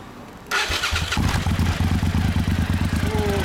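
A 1997 Suzuki TL1000S V-twin motorcycle fitted with a Yoshimura exhaust cranks and fires up after a brief quiet moment, then settles into a loud, close, throbbing idle with an even pulsing beat.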